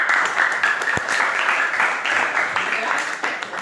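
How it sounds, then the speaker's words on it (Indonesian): Classroom applause from students after a group presents its discussion results, a dense steady patter of many hands lasting a few seconds with a sharp knock near the start. "Tepukan"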